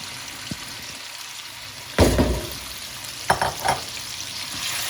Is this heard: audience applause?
no